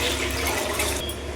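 Water pours into a cooking pot on the stove as a steady, loud gushing splash close by, with no talk over it.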